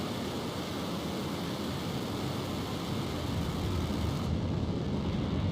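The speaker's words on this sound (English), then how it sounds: "And liftoff of the Falcon 9." A SpaceX Falcon 9 lifting off at Vandenberg produces a broad, steady roar of rocket engine noise, dense and rumbling throughout and heard alone without voices.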